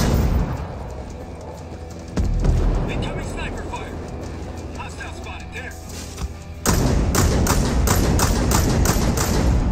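A mortar emplacement is blown up in a tactical shooter game, with heavy thuds and explosive bursts, a sharp jump in loudness partway through, and a voice talking over the action.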